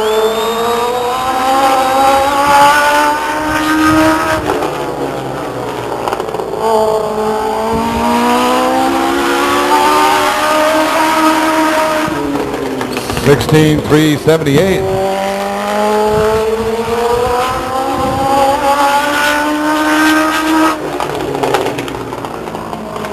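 A Legends race car laps Stockton 99 Speedway, its engine rising and falling in pitch as it passes through the turns, loud and continuous, with a track announcer speaking over it.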